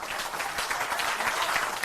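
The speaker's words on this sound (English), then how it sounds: "Please clap." An audience breaks into continuous applause, a thick, even roar of many hands clapping at once that stays at a moderate level and carries no speech.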